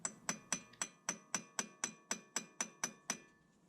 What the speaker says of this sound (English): If the axle doesn't move back on its own, just give it a little tap.